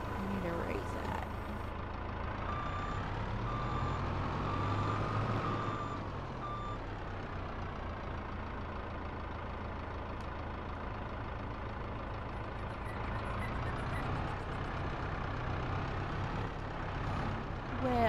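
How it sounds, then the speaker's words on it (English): A trailer tipping its load in Farming Simulator 22, heard as a continuous loud truck engine drone with hydraulic whine and intermittent reversing beeps, steady throughout with a slight rise near the end. "I'm making my trailer tip over now"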